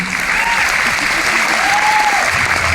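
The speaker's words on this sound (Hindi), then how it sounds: "ताली मारनी है तो अच्छे से मारिए" Audience applause at a youth empowerment seminar, a loud continuous wash of many hands clapping throughout, steady without breaks, with a faint voice underneath.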